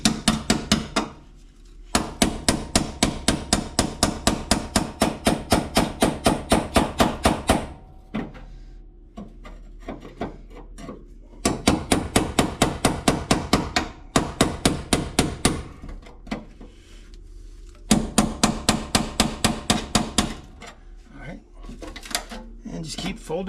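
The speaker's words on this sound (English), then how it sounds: "Now just keep on chiseling away." Hammer blows drive a chisel through the rusted sheet-metal floor pan of a 1969 Dodge Charger, fast rhythmic metallic strikes in three long bursts separated by brief pauses, loud and close.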